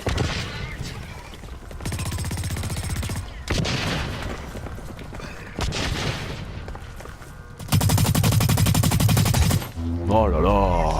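Bursts of automatic gunfire in the online shooter Blacklight Retribution, several sustained volleys separated by short pauses, loud and close.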